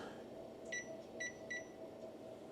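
An oven timer sounds a few faint, evenly spaced electronic beeps over a low background hum in a home kitchen during baking.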